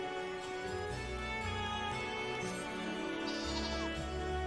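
Sheep bleating inside the video game Final Fantasy XIV, set over a steady bed of game music with sustained tones; the bleats blend into the dense, continuous score without clear separation.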